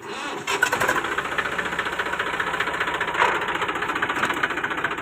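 A vehicle engine cranks and catches, then settles into a steady, rapid knocking idle that stays loud and close throughout.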